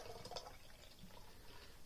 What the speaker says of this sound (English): Let's get the can cracked open, and let's pour it